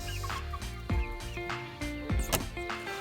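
Chickens cluck at night as they are caught to be introduced to a new flock, with several short, close clucks and squawks over a steady tonal background.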